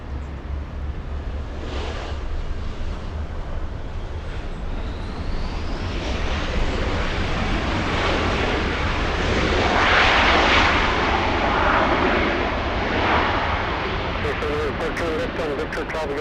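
An Embraer E175 regional jet at LAX roars steadily, a broad, loud engine rush that swells toward the middle and stays dense throughout, with wind buffeting on the microphone and speech underneath.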